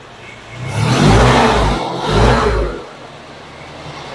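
A car engine revving and accelerating during a road trip: two loud, close throttle swells that roar up and fade back to a low idle rumble.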